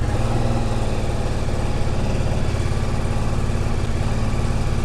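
Ducati DesertX motorcycle engine running close by, a loud, steady idle-to-low-rev rumble held evenly throughout with no talking.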